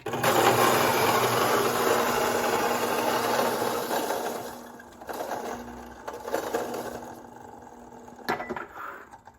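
A Fellow Ode coffee grinder set fine grinds coffee beans with a steady loud whirring crunch that tapers off after about five seconds, followed by softer rattling and handling noises.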